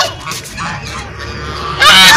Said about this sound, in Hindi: बतख है।